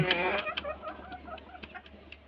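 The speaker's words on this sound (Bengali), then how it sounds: "মুরগিটা অনেক আগে থেকে এরকম কক কক শব্দ করে" A golden-hued hen kept with quail and pigeons clucks in short, repeated bursts, near and fairly clear, each call a brief sharp note spaced irregularly across a couple of seconds.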